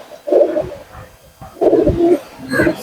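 Pigeons, a dark-necked male among them, give low cooing calls in two close bursts, with rustling of birds being held in hand and a brighter sound near the end.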